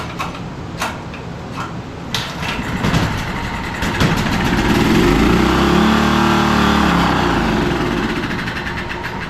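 A small generator with a stubborn recoil start and a low-oil fault: a few pull clatters, then the engine catches and runs at a steady, loud hum, close by.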